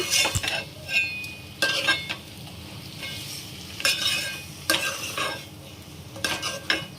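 Country chicken pieces for a curry cooked with palm leaves, simmering in a pan with a low sizzle under repeated sharp scraping and clinking strokes of a spoon stirring at irregular intervals, with no voices.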